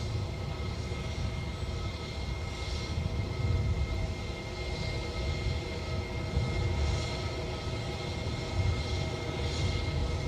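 Boeing 787 Dreamliner moving at Edinburgh airport, a steady broad engine rumble and hiss that holds constant throughout, moderately loud and unaccompanied.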